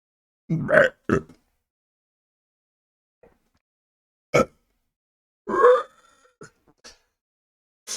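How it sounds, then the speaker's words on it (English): Several short, loud, close burps come in separate bursts with silent gaps between them, the first two near the start and another pair later on. "Anytime I burp, I always try to like push it out like it's going"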